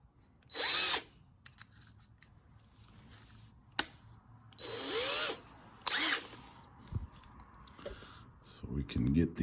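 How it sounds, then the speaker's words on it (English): A power drill fitted with a larger bit bores out rivets on a 1967 Hot Wheels Ford J car toy during restoration, running in three short whirring bursts with quiet gaps and small clicks between them. "Switch out to the bigger drill bit."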